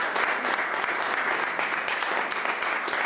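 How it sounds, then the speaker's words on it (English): Steady, even applause fills a meeting hall as a seated audience claps together, dense and sustained throughout at moderate loudness. "give you a big clap to yourself"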